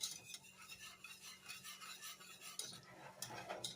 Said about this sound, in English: So let's stir that real good. Keep stirring it.